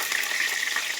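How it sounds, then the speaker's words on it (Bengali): Potatoes fry in hot oil in a kadai, giving a bright, steady sizzle heard close up for about a second with no voices. "আলু কড়া ভেজে নিই"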